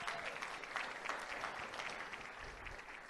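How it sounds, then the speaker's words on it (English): Faint, distant applause rises from the audience at a school board meeting, honoring a student competitor. The even clapping holds through three seconds without any talk over it. "Let's give him one more big round of applause."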